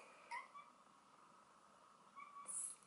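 A cat gives a few faint, brief chirping meows, barely above a quiet indoor background.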